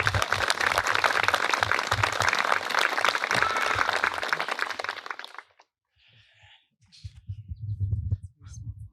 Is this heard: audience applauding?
yes